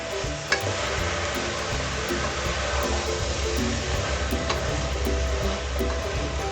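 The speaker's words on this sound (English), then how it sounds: "So next we will add the tomatoes. And mix it well." Tomatoes being stirred into a brinjal and hyacinth bean biryani in a pan, with a steady sizzle and scraping stir sounds running throughout, close and continuous.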